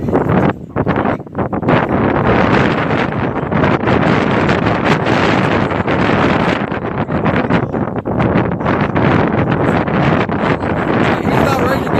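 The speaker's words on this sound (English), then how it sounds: "Sorry about all the wind" Strong wind buffets the microphone outdoors in loud, roaring gusts that rumble and flutter almost without pause, with people talking underneath.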